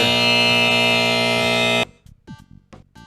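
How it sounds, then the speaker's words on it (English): A loud, harsh electronic buzzer sounds at a Dr. Mario NES tournament, holding steady for nearly two seconds before cutting off abruptly and leaving quiet room noise with faint voices. "I kind of heard it in like the back of my brain. I just kind of sensed the buzzer."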